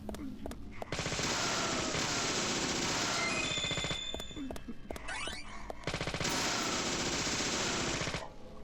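Sustained machine gun fire rattles in the video game Deadly Premonition, in two long, dense bursts of rapid shots. A brief pause with a few game effects and tones separates the bursts.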